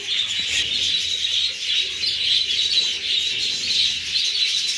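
Dense, continuous chirping and tweeting from many small parrots, steady and fairly loud throughout, with faint rustling underneath and no voices.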